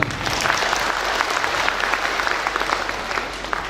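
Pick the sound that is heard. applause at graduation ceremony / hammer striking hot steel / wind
applause at graduation ceremony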